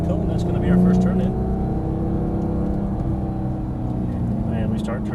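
Porsche GT3 engine at the Exotic Racing track in Las Vegas, a loud, close, sustained rumble rolling out and climbing briefly with an upshift, under continuous talk.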